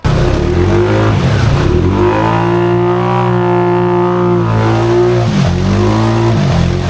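A Can-Am ATV engine revving loud and close during a slow wheelie, a sustained droning rev that dips and rises again near the end, with no talk.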